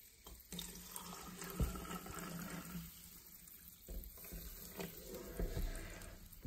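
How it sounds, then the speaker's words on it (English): Water pours in a steady, splashing stream into a glass for several seconds, close by, with small clinks and fluctuations in the flow. "Let's pour some water in."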